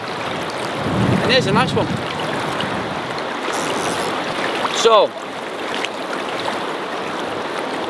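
Rushing water of a fast river current fills the background steadily while someone talks over it near the microphone.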